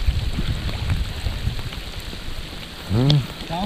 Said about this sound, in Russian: Дождь вообще влупил